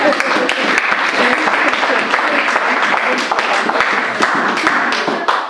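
A church congregation applauds after a call to acclaim the word of God, with dense, steady clapping that holds throughout. Loud taps and thumps stand out, and voices carry underneath.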